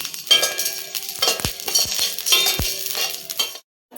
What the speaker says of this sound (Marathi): आता मस्त असे भाजून घेते.